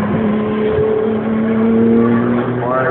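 A white and green race car roars past at close range, its engine pitch sliding steadily downward as it goes by, loud over the background track noise.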